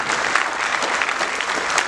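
A crowd at a Ramadan charity seminar in Bejaia applauds nine charity associations, a loud, dense, continuous burst of clapping from many hands, close and without voices.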